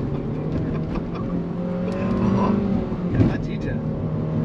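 Nissan Kicks engine revving during a burnout attempt, a steady mid-loud drone that swells slightly midway with a brief louder burst near the end, under people talking inside the car.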